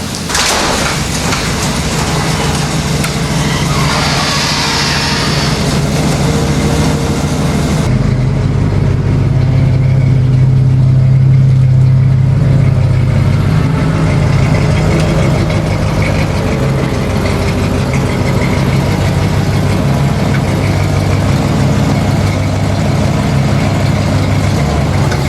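A Ford Capri engine running at a steady, loud idle, a continuous low rumble with a slight shift in tone partway through and no voices.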